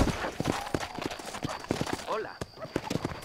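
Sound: horse hooves climbing a hill in video game Red Dead Redemption

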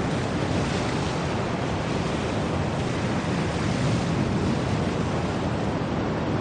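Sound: sea waves on the shore

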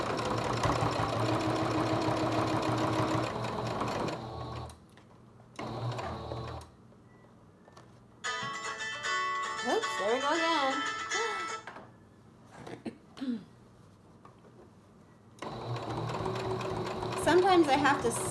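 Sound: sewing machine straight stitching a fabric face mask

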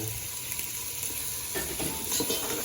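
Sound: pouring boiled broth into the arroz caldo pot

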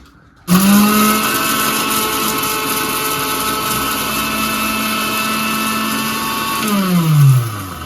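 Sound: mixer grinder (mixie) grinding fish curry masala

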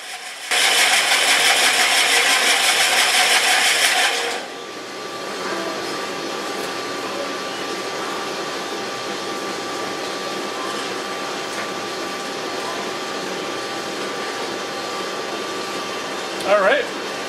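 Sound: rock sphere machine grinding soft stone

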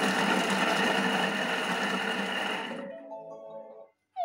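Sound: food processor chopping ingredients

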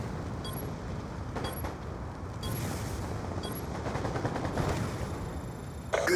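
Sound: gunfire in the video game Call of Duty

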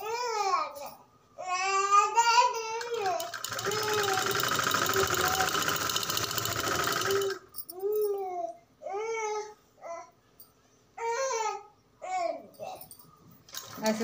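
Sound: sewing machine stitching a salwar

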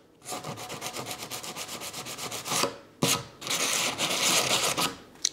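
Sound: hand sanding wood

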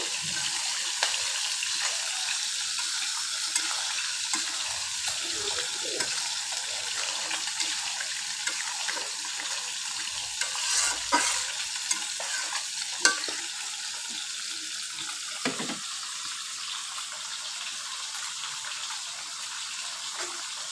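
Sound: stirring mixed vegetables in a pan

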